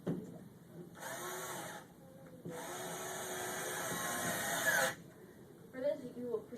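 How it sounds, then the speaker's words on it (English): Small Whitaker hand drill driving screws into a wooden birdhouse face, two bursts of high whirring, one short and one longer, separated by pauses with faint handling noises, followed by a brief clatter. "I'm using a small Whitaker hand drill"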